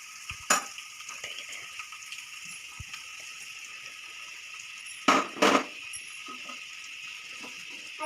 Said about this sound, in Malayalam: അച്ചാർ പൊടി ഇട്ട് ഒന്ന് ഇളക്കി കൊടുക്കാം.